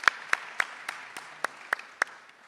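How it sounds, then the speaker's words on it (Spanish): Scattered audience applause welcoming a speaker at a project-design talk: about eight separate sharp claps spaced roughly a third of a second apart, thin and sparse over a quiet room. "La recibimos con un aplauso y de paso despabilamos"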